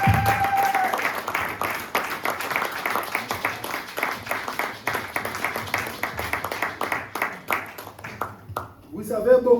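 A church congregation at a Sunday baptism service claps and cheers for the Lord, dense sustained applause with mixed crowd voices, fading toward the end.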